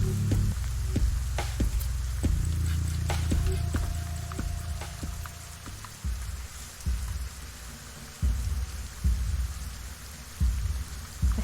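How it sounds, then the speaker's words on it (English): Rain falls steadily in the video game Saurian, a dense hiss of drops with some heavier patters and low rumbles running underneath throughout. "it's raining now"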